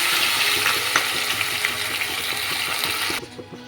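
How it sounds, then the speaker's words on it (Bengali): Onion and garlic paste goes into hot oil with fried dried chili and bay leaf, producing a loud, close, continuous sizzle with stirring scrapes that cuts off abruptly near the end. "এরপরে আমি দিয়ে দিচ্ছি আগে থেকে বেটে রাখা পেঁয়াজ আর রসুনের পেস্ট"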